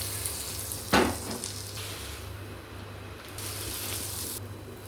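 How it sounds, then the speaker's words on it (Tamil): Bread roasts in butter in a hot pan, a soft continuous sizzle with a sharp clatter near the start and faint stirring scrapes. "ப்ரெட்டை வந்து ரோஸ்ட் பண்ணிக்கலாங்க."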